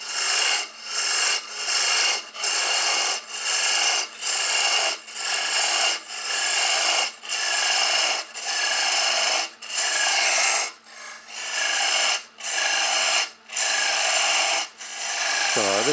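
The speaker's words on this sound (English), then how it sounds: "The bowl gouge, just nibbling it away." A bowl gouge cuts into wood while shaping a cheese serving board, making loud, regular rasping strokes about once a second, each a short scraping burst, repeated steadily with no voices.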